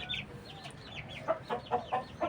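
A Bangkok fighting rooster of super-large build clucks in a series of short, repeated calls, closer and louder toward the end, with farmyard background ambience.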